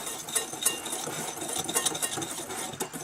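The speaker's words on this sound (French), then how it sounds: "Mélangez toutes ces poudres." Icing sugar, almond powder and cinnamon are mixed in a bowl, giving a busy run of close scraping and clinking utensil sounds that continues without pause, with no voices.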